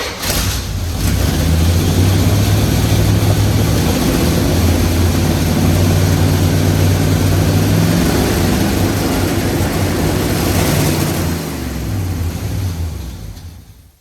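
A shop truck engine fires up and is revved with the throttle, giving a loud, close, rumbling roar that holds steady for several seconds, surges and shifts in pitch, then falls off at the end.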